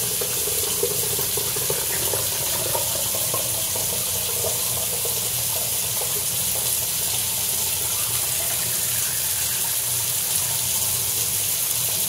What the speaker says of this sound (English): Pour the Blix back into the container.